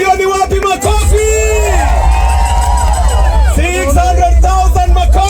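Crowd cheering and whooping at a fundraising auction, loud sustained shouts and calls rising in excited waves, with a close voice mixed into the roar.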